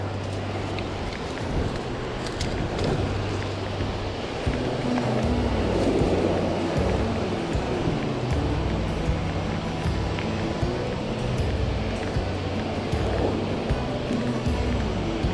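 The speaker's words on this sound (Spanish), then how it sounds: "la ola está bien fuerte" Heavy ocean surf rolls and crashes with a continuous roar on a rough sea during a shore fishing trip for jack mackerel, loud and close, with background music underneath.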